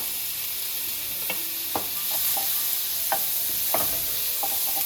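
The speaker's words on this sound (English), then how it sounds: "this is 4 cloves of garlic and 1 onion diced. So we're just gonna let that cook a little bit." Four cloves of garlic and a diced onion cook in pork drippings for a curry pork tenderloin, a soft steady sizzle with occasional clinks and scrapes of stirring in the pan, no talking.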